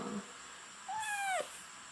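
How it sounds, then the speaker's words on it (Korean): A chubby house cat gives one short rising-then-falling meow, fairly faint, in a quiet room during home sewing and ironing work. "진짜 돼지고양 아이고 돼지고양이, 돼지고양이, 저희 시시예요"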